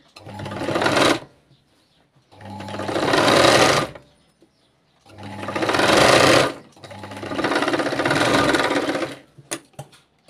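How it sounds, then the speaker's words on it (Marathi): Sewing machine stitching a fitting tuck on a katori blouse, four loud, close bursts of rapid whirring stitches separated by short pauses, with a few quick clicks at the end. "तर इथं अनेक वेळेस आपल्याला एक टिप मारून घ्यायची आहे"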